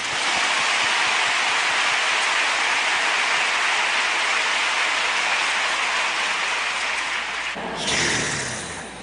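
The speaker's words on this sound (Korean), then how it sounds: "박수 한번 크게 쳐보십시오." A large congregation at Yoido Full Gospel Church claps loudly during a sermon, a thick, sustained roar of hands like heavy rain that fades near the end as a voice comes in.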